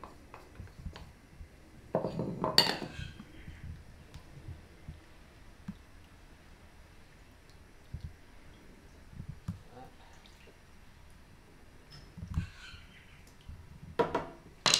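A utensil scrapes and taps against a pan of chicken and tomatoes, with a few louder scraping strokes separated by quiet stretches and faint clicks.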